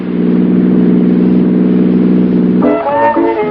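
Car engine running on Atlantic Imperial gasoline in a vintage radio ad, a loud steady mid-pitched drone that holds even, then shifts abruptly near the end to a higher revving tone with a whine, no speech over it.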